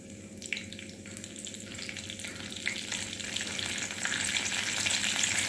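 Cumin seeds crackle and sizzle in a little hot oil, a dense, steady frying hiss with fine popping that continues without pause, close up and moderately loud.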